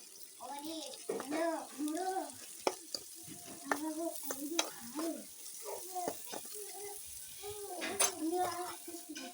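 A radish fry with beans and salt is stirred in a pan, the utensil giving close, irregular scrapes and clinks over a faint sizzle, while a voice talks throughout.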